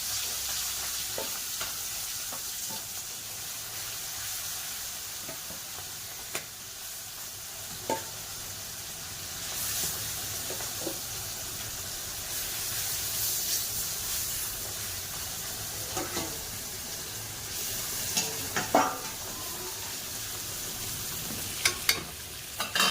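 Chicken fries in hot oil in a home kitchen, a continuous close sizzle and hiss with occasional spatula scrapes and clicks, no talking.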